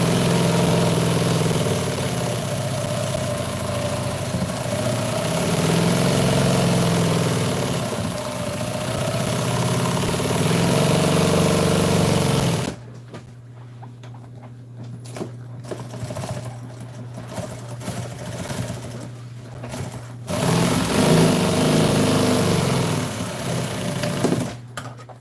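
A sewing machine runs steadily, stitching around a seat cover being redone, a close, humming mechanical drone that stops partway through, leaving quieter handling noise, then starts up again near the end.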